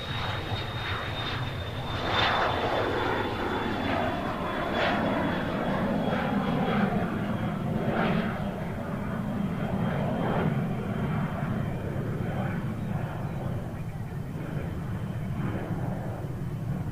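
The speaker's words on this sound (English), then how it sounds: "Delta going to Atlanta, Boeing" Delta Boeing 737-900 departing Nashville International Airport, a sustained loud jet roar with a high engine whine, swelling slightly and holding steady throughout.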